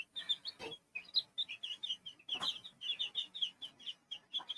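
Newly hatched chicks peep in a steady run of high, bright, rapid chirps, close and fairly loud with no talking.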